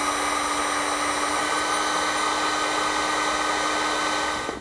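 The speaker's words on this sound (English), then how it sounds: "I will simply just take my heat source and seal up those ends." A heat gun sealing heat shrink butt connectors on wiring for a 12-volt outlet kit in a 2018 Ford Explorer runs as a loud, steady, close whooshing blower roar with a constant whine, cutting off at the very end.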